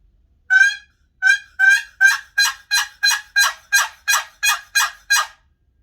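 A wooden turkey box call working a yelp, a run of about twelve sharp, raspy, evenly spaced notes that start hesitant and settle into a steady rhythm, loud and close, with no talk.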